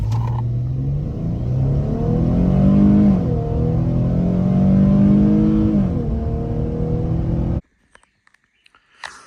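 A Dodge Challenger engine revs hard and accelerates from zero to sixty, its pitch climbing through a few gear shifts before the sound cuts off abruptly, followed by faint clicks.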